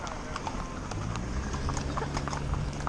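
Several horses' hooves clip-clopping on dirt, a busy, irregular stream of close hoof strikes over a low rumble, with faint voices in the background.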